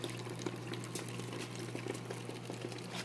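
Water flows steadily through a small Bernoulli principle demonstration rig with a ping pong ball, a continuous close bubbling gurgle over a low steady hum, with no talk.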